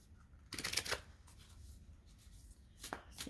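A deck of stiff oracle cards shuffled close up in a few quick riffling bursts over a quiet background.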